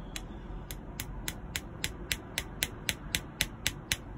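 A punch tool tapped while making a fabric naga craft with wire, a steady run of about fourteen sharp, evenly spaced taps over a low background hum.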